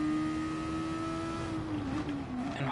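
A race car in Gran Turismo Sport holds a loud, steady engine note under throttle, its pitch sliding slightly downward then climbing again near the end.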